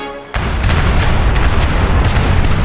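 Ship cannons fire in the Age of Empires 3 pirate campaign, a sudden heavy boom followed by a dense barrage of rumbling blasts that continues loudly throughout.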